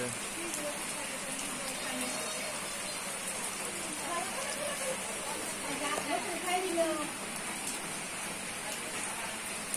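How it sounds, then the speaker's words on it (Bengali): Heavy rain falls steadily outdoors as a continuous broadband hiss, fairly loud and even throughout, with faint indistinct voices underneath. "চারিদিকে বৃষ্টি হচ্ছে, ভালো বৃষ্টি।"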